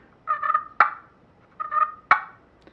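Two paired strikes on a scratch box turkey call, each a short raspy yelp followed by a sharp click, imitate a hen turkey's easy cluck, close and clear with silence between.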